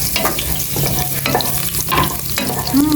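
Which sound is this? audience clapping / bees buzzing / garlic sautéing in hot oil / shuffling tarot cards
garlic sautéing in hot oil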